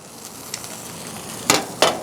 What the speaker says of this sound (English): And you can see that our gravy is definitely boiling pretty good now.